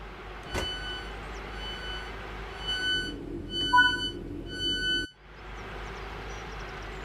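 Passenger door warning beeps on a Class 323 electric train in Train Sim World, sounding as a steady run of evenly spaced bright electronic tones over a low cab hum, then cutting off.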